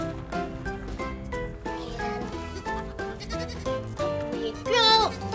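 A baby goat on a farm bleats over light backing music in a children's cartoon, with the clearest, loudest bleat arriving near the end.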